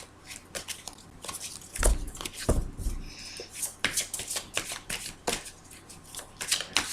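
Tarot cards are handled, shuffled and flipped over in a quiet room, making soft papery riffles and scattered light taps, with a couple of firmer snaps near the middle.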